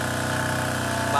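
Steady idle from a 2019 BMW M4 Competition exhaust with the valves closed and the secondary catalytic converter deleted, a low even drone lasting about a second.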